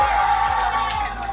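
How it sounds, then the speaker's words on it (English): Football fans in Vienna cheer and whoop together as a steady crowd roar, loud and sustained throughout with a few rising shouts standing out. "I have to share this cool audio of European soccer fans, or excuse me, football fans cheering on their teams"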